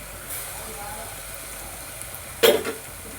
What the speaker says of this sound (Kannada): ಎರಡು ಮಿಕ್ಸ್ ಮಾಡ್ಕೋಬೇಕು